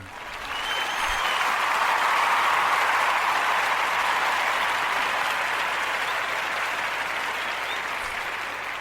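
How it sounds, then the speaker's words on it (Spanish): Sustained applause from an audience swells in quickly and holds steady for several seconds, dense clapping filling the space with no voices over it, then tapers slightly toward the end. "Así es que un merecido aplauso."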